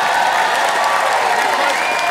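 A theatre audience at a live comedy show claps loudly in a dense, continuous roar of applause that holds steady from start to finish.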